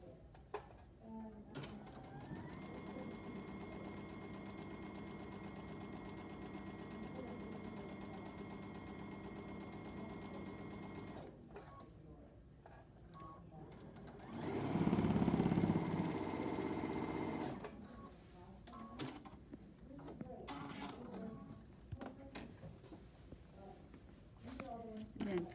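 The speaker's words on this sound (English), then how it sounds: "Maybe I'll sew these together just to show you." A sewing machine stitches quilt fabric pieces together with a steady mechanical whirring hum for about ten seconds, then a louder burst follows, with speech around it.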